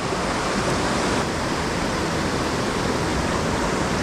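A fast-flowing trout stream in the mountains of western North Carolina, rushing water making a dense, loud, unbroken roar from close by with no other sounds.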